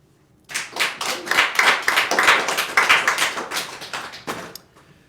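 An audience applauds a student receiving a certificate at a gala, dense steady clapping that starts abruptly, holds for about four seconds, then fades out.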